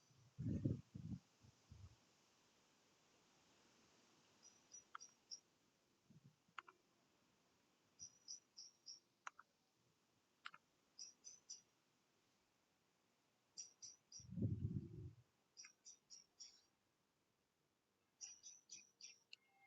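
Light, quiet clicking of keyboard keys in short scattered bursts, close and soft, with a couple of low muffled voice bursts between them.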